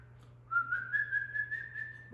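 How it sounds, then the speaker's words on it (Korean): A person whistles a single clear, fairly high tone, wavering slightly, soft and close, after a brief quiet moment. "휘파람"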